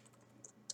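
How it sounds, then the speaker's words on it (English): A computer keyboard is typed on for an HTML tutorial, with a few faint, light key clicks spaced irregularly over quiet room tone, the last one slightly louder. "And also if I start typing"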